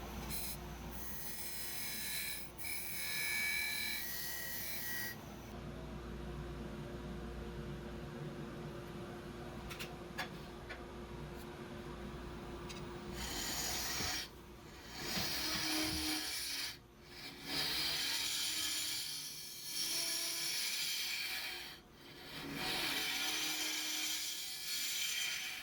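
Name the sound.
hollowing out a wooden urn on a lathe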